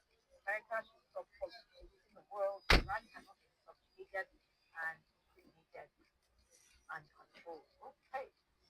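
A single loud, sharp slam of a car door shutting close by, in the middle of ongoing conversational speech.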